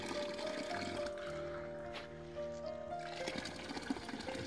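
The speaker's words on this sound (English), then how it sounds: "This water, it's great to drink. It's coming from inside the mountains." Spring water from inside the mountains at Deessa in Saudi Arabia flows and splashes in a continuous, close trickling stream. A faint tonal hum sits under the water.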